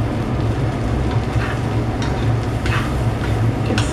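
Rice stirred and scraped in a small claypot, a soft sizzle under a steady low rumble with faint irregular scraping strokes.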